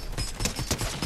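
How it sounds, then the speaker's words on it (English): Rapid, fairly faint gunfire from the Fortnite video game rattles in a quick rhythmic run of shots over a steady background, with no talk. "Someone else is shooting at us from somewhere else."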